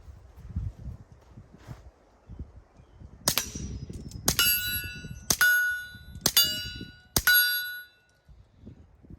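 Five sharp pistol shots from a Walther PPK/S fired down range, roughly a second apart, each crisp report followed by a short metallic ringing, with quiet rustling between them.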